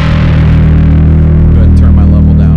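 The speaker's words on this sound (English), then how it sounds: "And you can hear we do have a little bit of noise, which some would maybe call substantial, but it's kind of expected for a driver distortion pedal." Bass guitar driven hard through a DarkGlass MicroTubes B3K overdrive pedal with the drive maxed, a loud, thick, steady distorted tone with a droning low end and noisy hiss on top.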